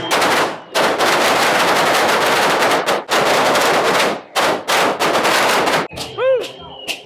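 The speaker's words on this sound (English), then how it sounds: "The firecrackers purify the way." Strings of firecrackers explode during a religious procession carrying an altar along a mountain road, dense rapid crackling bursts in loud long volleys with short gaps, ending in a brief quieter moment with whistling tones.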